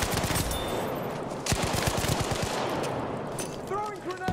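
Rapid automatic gunfire crackles in a Battlefield V firefight, dense bursts of close shots layered with distant fire, with a voice briefly shouting near the end.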